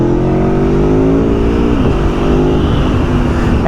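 A 2022 Aprilia Tuono V4 Factory motorcycle engine revs loud and close, a steady high drone that dips briefly midway before climbing again, with no talking over it.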